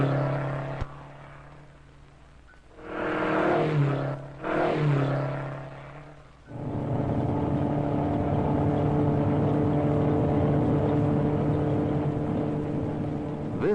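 Ford Mustang research concept car engine, a steady loud drone with a couple of revving surges early on before settling into a sustained, close, even roar.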